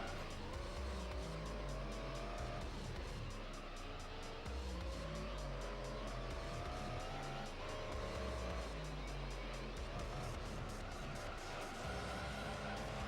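A race car drifting in Gran Turismo 3, engine revving continuously with sustained tire squeal sliding through the turn, loud and close throughout.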